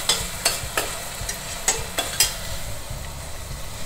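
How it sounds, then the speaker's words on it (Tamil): Onion, tomato and mint sautéing in a pan, a steady close sizzle broken by several sharp scraping stirs at an uneven rhythm, with no talk. "நல்லா வதங்கட்டும்"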